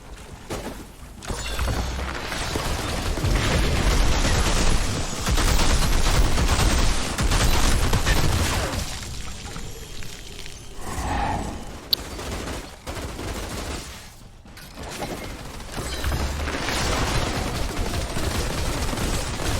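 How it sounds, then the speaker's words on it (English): A freezing automated Cryo Turret in the shooter game Outriders fires at enemies in long, rapid bursts of gunfire, with brief pauses and impacts mixed into dense combat noise throughout. "Place an automated turret that deals 4 damage and inflicts freeze onto the enemies."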